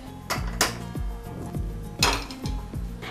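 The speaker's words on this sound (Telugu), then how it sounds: "ఈ కడాయి తీసి పక్కన పెట్టి ఇంకో కడాయి పెట్టుకుందాము" Metal kadai pans clank and scrape against a stovetop, with two sharp ringing clatters and several lighter knocks as one pan is set aside and another is put in place, close and clear with no talking.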